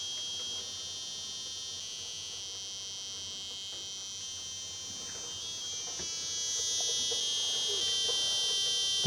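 A small buzzer on an Agon Light 8-bit computer plays a tune in thin, shrill, steady electronic tones, fairly loud and continuous, with faint background noise underneath.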